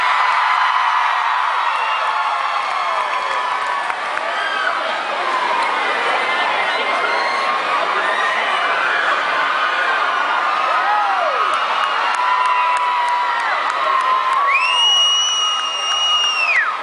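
A concert crowd at the WNCI 97.9 Jingle Ball cheers, whoops and applauds, a loud, dense, continuous roar of many voices that keeps going for the whole stretch.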